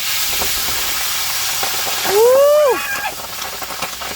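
Food fries in vegetable oil with a loud, continuous hiss and sizzle close by, briefly overlapped by a rising, wavering vocal cry.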